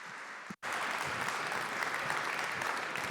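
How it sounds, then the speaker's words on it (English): A conference audience breaks into steady, full applause for a speaker at a tech conference. After a brief opening burst and a sharp momentary gap, dense clapping continues evenly and loudly throughout, with no talking heard. "Big round of applause for Ivett"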